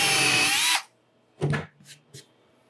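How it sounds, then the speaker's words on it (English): A power drill bores a pilot hole into wood in one loud, steady burst lasting under a second, then stops, followed by a few short clunks and taps from handling the tool close by. "And we're going to be polite and drill a pilot hole."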